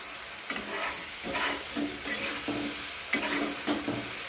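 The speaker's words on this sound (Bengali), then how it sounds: "মশলাটা ভালো করে কষাতে থাকবো" Spice paste with a little water and sugar is stir-fried in a pan. It gives a soft, steady sizzle broken by repeated scraping strokes of the spatula at an even, unhurried rhythm, close by and fairly quiet.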